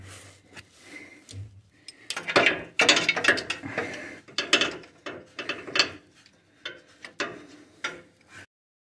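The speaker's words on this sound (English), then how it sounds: "I'm going to put the socket up here and try to fit it in there with my hand." A socket ratchet clicks on the coolant drain plug of a Nissan D21 with a KA24 engine, in close, uneven bursts of rapid pawl ticks with handling knocks between them, loud and without talk.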